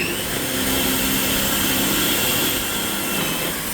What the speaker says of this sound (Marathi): आता इकडे दुसरं होल पाडून घेतील आणि नंतर मग त्याच्यामध्ये पण स्क्रू फिट करतील